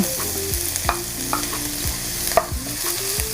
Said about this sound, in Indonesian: Minyaknya sudah panas, saya tumis dulu bawang putih cincangnya ya.